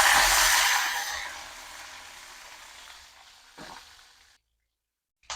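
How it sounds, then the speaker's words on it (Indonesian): Chilies fry in hot oil for sambal, a loud sizzling hiss bursting at first and gradually fading to a quieter crackle before cutting to silence, with a brief clatter near the end. "Lanjut goreng buat nyambel."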